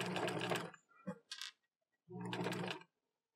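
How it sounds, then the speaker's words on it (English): A sewing machine back stitches across a medieval tunic shoulder seam in short, close mechanical whirring bursts that stop and start, with brief quiet gaps and a small click between runs. "I'm going to back stitch for reinforcement because I'm crossing another line of stitching"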